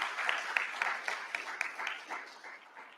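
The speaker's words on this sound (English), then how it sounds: "One more round of applause." A conference audience gives a short, fairly quiet round of applause for a panel, a soft patter of clapping with a few distinct claps that tapers off.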